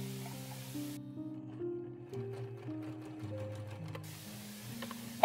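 A sewing machine stitches through many stacked layers of an 1860s corset, running in a steady rapid patter over sustained melodic tones, close and moderately loud throughout.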